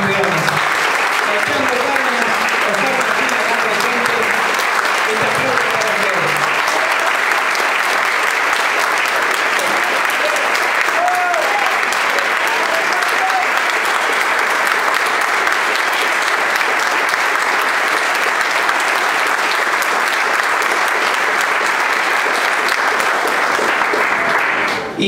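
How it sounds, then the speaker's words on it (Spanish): An audience at a documentary presentation in Argentina, held for the Racing Club champions, breaks into loud, sustained applause that lasts the whole stretch, with faint voices mixed in near the start. "Pido también un fuerte aplauso,"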